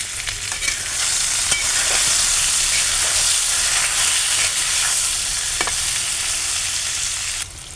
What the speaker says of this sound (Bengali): বেগুনে আমি হলুদ দিয়ে ভেজে নেব